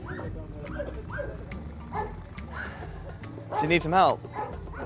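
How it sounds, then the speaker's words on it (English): A small dog yips and whimpers in short high bursts amid background chatter and a nearby voice, getting louder toward the end. "there's a dog barking"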